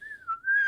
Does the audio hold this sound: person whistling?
yes